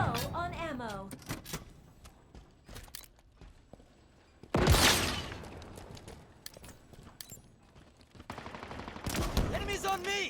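Sharp, heavy shots from the Skewer weapon in Halo Infinite, single loud blasts spaced apart amid other gunfire, footsteps and in-game voice callouts.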